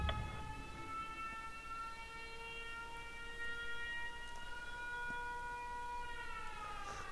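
Steady wailing sirens from the video game Spore, a sustained multi-tone drone holding at an even loudness without pause.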